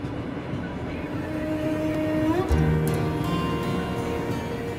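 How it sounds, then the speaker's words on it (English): Tsarangold train travelling on rails toward Mongolia, a steady rolling rumble with a brief metallic screech and a thump around the middle, fairly close and continuous. "The Tsarangold train crosses into Mongolia."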